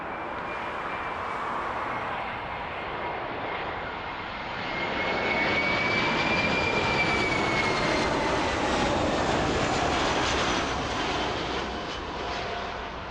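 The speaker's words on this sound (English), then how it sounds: "here comes the A319 coming in from Fort Lauderdale" An Airbus A319 jet arriving from Fort Lauderdale lands at Toronto Pearson, its engine roar swelling and easing over several seconds with a thin whining tone drifting above, heard from a moderate distance without voices.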